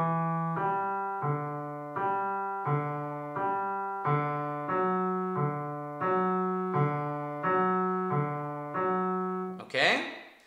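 Solo piano plays a passage from a piece as steady, evenly spaced broken-chord patterns in a regular rhythm. The notes are clear and close, and a brief noisy rustle comes at the end.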